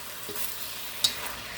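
Homemade sauce of brown sugar, soy sauce, sesame oil and honey ladled into a hot hibachi pan, giving a steady soft sizzle with a brief sharp splash partway through.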